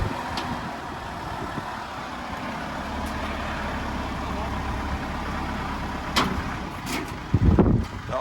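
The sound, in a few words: pickup truck driving onto a recovery trailer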